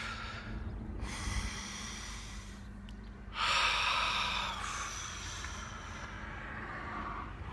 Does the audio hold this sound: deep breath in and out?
yes